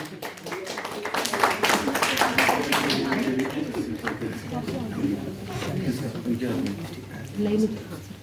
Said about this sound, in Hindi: राम मनोहर जी के लिए एक बार जोरदार ताली